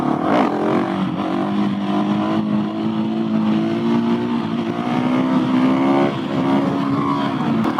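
A single-cylinder supermoto motorcycle pulling wheelies gives off a loud, sustained engine drone that rises and shifts in pitch as the throttle is held, with no voices.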